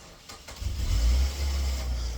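A car engine turns over and catches, its low rumble swelling within a second and then settling into a steady warm-up idle, heard close by with no talking.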